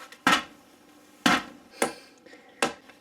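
A heavy toy hammer strikes a volcano gem-dig kit four times, sharp close chipping knocks spaced irregularly with quiet gaps between blows.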